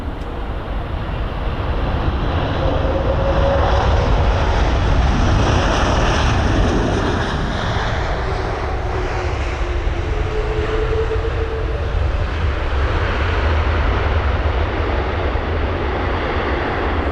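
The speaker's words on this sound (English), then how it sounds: "it's the BA 777-200" A British Airways Boeing 777-200 arriving at London Heathrow produces a loud, steady jet roar with a faint descending whine across the whole stretch, and no voices.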